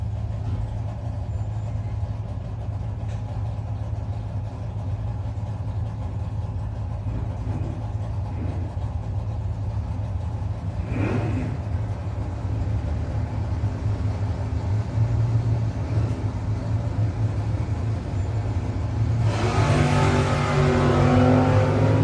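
Drag racing cars, a Roadster and a Nova, idle at the start line at the No-Box 660 Shootout, a steady engine rumble that swells near the end into a loud burst of revving.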